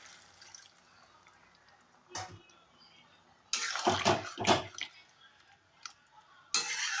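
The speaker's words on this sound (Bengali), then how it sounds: "আমি এর মধ্যে একটু জল দিয়ে দেবো ডালটা সেদ্ধ হওয়ার জন্য" Water splashes into a cooking pot of moong dal and bottle gourd in a few short pours, loudest in the middle, with quiet kitchen noise between.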